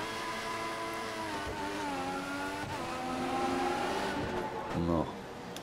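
A Formula One car engine at full throttle in the racing game F1 2014, a high sustained whine with rising and falling gear tones, shifting pitch near the end, with a voice talking over it.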